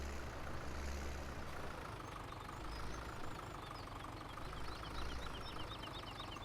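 A tractor engine idling in Farming Simulator 17, a faint, steady, low rumbling drone with a slight knocking texture, continuous and with no talk.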